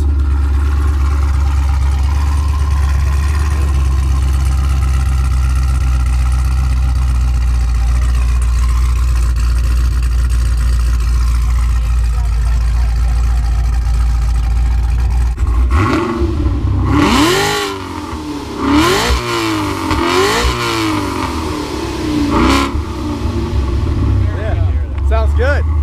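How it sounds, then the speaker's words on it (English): A brand new truck's exhaust drones at a steady idle, then barks through several sharp revs that rise and fall in pitch, loud and close, with people talking nearby. "There we go, exhaust sounds."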